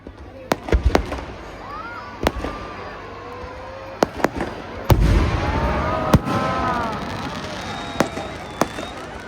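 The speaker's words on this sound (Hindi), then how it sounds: "सुंदर आतिशबाजी" Fireworks at a Vijayadashami Ravan Dahan celebration in Nainital going off in a series of sharp bangs and crackles at irregular intervals, with crowd voices and talk underneath.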